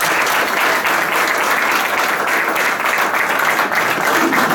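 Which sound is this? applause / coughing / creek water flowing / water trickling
applause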